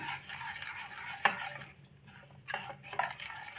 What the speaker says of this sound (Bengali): সব উপকরণগুলো ভালো করে ঘেটে নেব।